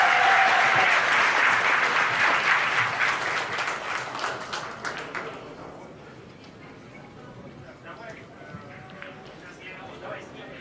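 A crowd at a billiards match, Max Eberle versus Fedor Gorst, breaks into loud sustained applause and cheering that gradually fades over several seconds, with a commentator's voice talking over it.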